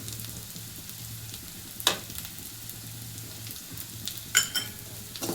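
Onions with turmeric, garam masala and asafoetida sizzle and crackle softly in a pan for a cassava masala while a spoon stirs through, with a couple of sharper scrapes standing out.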